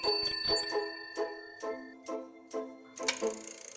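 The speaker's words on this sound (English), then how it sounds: "bicycle" A bicycle bell rings in a quick run of bright metallic dings, about eight strikes with short shimmering decays, loud and close with no other sound.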